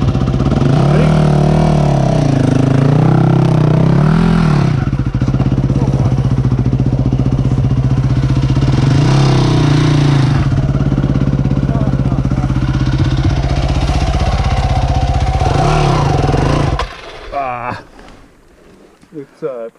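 A motorcycle engine runs loud and close on a steep trail between Greenwater and Naches, holding a steady throaty idle with occasional revs for most of the clip before cutting out near the end.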